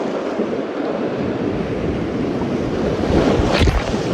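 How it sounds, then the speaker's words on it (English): Large tsunami waves surge and crash in a game scene, a dense continuous roar of churning water and wind with a heavier surging crash building near the end, loud and close, no voices. "For perspective, those are tsunami waves."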